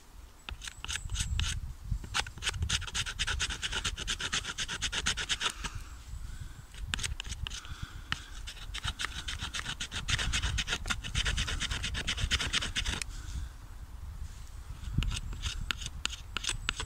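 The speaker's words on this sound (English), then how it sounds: "it's nice and dry, so I can make some nice little shavings here." A knife shaves very thin curls from dry wood to make fire-starting tinder outdoors. The close, steady scraping strokes come in bursts with short pauses between them.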